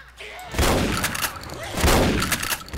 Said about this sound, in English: Too much gunfire and zombies.